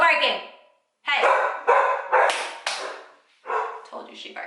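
A pet dog at home barks several times, loud and close, in short sharp bursts separated by brief pauses.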